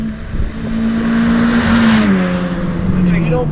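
A 2ZZ-swapped Toyota MR2 Spyder with a 5-speed revs hard, its engine note climbing and sliding in pitch over a few seconds, loud and close with a raspy edge.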